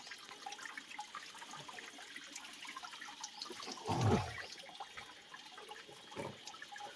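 Faint, steady trickling of natural spring water flowing from the ground in a forest near Girnar, with a brief louder gush partway through, quiet and without any voices.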